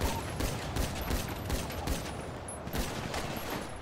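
Rapid gunfire crackles through a 3v3 arena match in a competitive video game, with dense bursts of shots firing almost continuously at close range and loud throughout.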